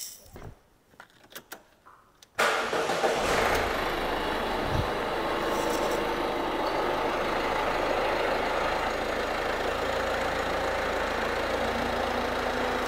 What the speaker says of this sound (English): I'm now going to start the car.